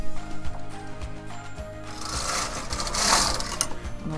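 A knitting machine carriage sweeps across the needle bed, giving a close, steady mechanical rattle with regular clicks that swells into a louder rushing pass near the end.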